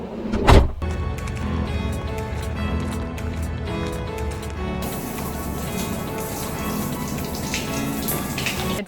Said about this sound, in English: It's raining on and off right now.